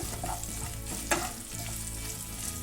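Raw garlic and dried red chilies sizzle in hot oil in a pan, a steady close crackle with one sharp stir or spatula scrape partway through.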